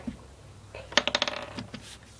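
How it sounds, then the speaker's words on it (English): A glue stick knocks over on a table during paper crafting, landing with a quick cluster of light clattering taps and a short rattle as it rolls and settles, close and fairly clear with no talk. "I just knocked over a glue stick."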